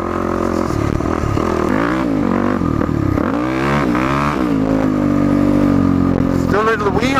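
A Yamaha WR450F dirt bike with free mods and new jetting revs up and down under the throttle, the engine note rising and falling in sharp sweeps, loud and close.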